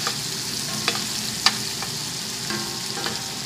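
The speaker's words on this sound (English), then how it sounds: "The chicken is frying up nicely." Chicken sizzles and crackles steadily in a hot pan, with a few sharper pops and spatters breaking through the constant frying hiss.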